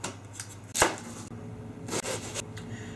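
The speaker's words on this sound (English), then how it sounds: "first for the sauce, you want to cut an onion up" An onion cut with a knife on a board for a moussaka lasagne sauce, a few crisp close chops with one sharp stroke early and two more near the end over quiet room tone.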